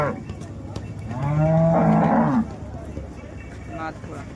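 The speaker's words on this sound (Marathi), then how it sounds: "30 प्लसची गाय आहे" A cow at the Modnimb cattle market moos once, long and loud, with rich harmonic tones; market chatter and bidding voices continue underneath and after it.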